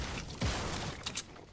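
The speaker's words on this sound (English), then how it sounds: "that's me shooting" A player fires a gun in Fortnite Battle Royale during a squad match: a few quick, sharp shots close by, with a louder burst near the start and more shots toward the end, against faint game background noise.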